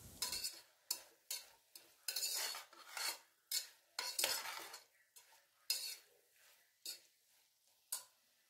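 Spices with turmeric and salt being stir-fried in a pan, a series of about a dozen distinct scraping strokes of a spoon against metal, each a short swish with a light sizzle beneath, close and without talk.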